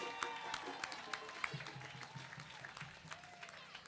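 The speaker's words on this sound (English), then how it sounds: "Big round of applause." Crowd applause at a Memorial Day parade for Shrine drummers who marched the whole route, with steady clapping and scattered sharp claps running throughout at moderate distance.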